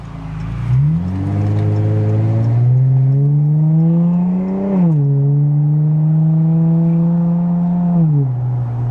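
A custom modded Chrysler 300 accelerates hard onto a freeway, its engine revving up loud and close with rising pitch, easing briefly, then climbing again through a gear before settling back.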